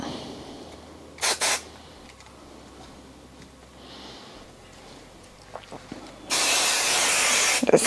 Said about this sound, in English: Just spray all of these layers just to hold it.